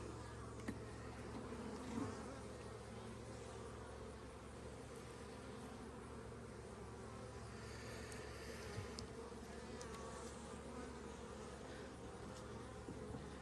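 Honeybees swarm around an open hive during an inspection, a dense steady buzz close up that holds throughout with small bursts as bees fly past.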